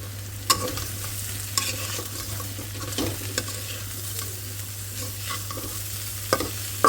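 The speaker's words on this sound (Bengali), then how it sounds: "পেঁয়াজ ভাজা শেষ মাছ ধরে দিলাম এখন" Fish fries in a pan with already-fried onions, giving a steady hissing sizzle with occasional sharp clicks from stirring, and a low electrical hum underneath; no one speaks.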